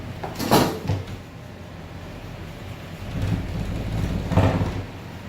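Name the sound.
door closing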